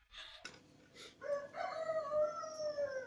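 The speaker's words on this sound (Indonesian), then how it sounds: "ayam berkokok, tanda fajar mulai menyingsing" A rooster crows at dawn in one long, clear, drawn-out call that rises and then holds for nearly two seconds after a few quieter rustles and clucks. It is fairly faint, with no voices.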